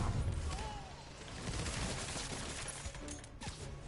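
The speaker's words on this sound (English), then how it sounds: "Ow, stop shooting at me, I'm allergic to bullets." Gunfire in Marvel's Spider-Man, a dense, continuous crackle of shots under game noise, fairly faint and steady throughout with a few sharper pops near the end.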